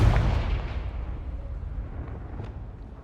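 Confringo fire blast in Hogwarts Legacy, a single loud explosive burst at the start that decays into a low rumbling roar, with faint crackles trailing off.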